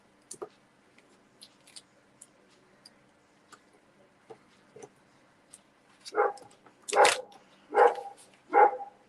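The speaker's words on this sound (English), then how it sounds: "I don't know whose dog that is." A dog barks four times in quick succession at moderate distance near the end, after several seconds of faint ticking and tapping sounds.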